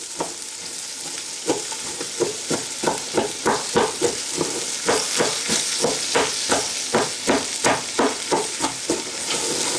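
Onions sautéing in a pot for French onion soup, a steady sizzle with repeated scraping stirs about twice a second, close and fairly loud, with no talking.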